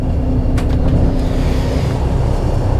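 Twin engines on a Sunseeker Predator 74 XPS luxury yacht rumble loudly and steadily at the helm, a dense low drone with a few brief clicks near the start and no talking.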